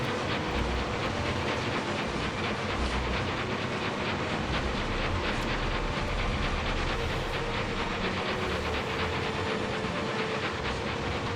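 A train rolls steadily along in the Murder on the Orient Express video game, a dense continuous rumble with hiss and faint clickety-clack of the rails, loud and unbroken throughout with no talking.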